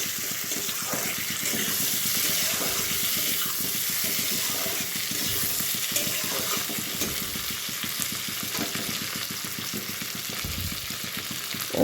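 Tomatoes fry in a pan for a mixed small-fish and vegetable chorchori, a continuous dense sizzle and bubbling hiss that holds steady and close throughout, with faint stirring taps and no talk.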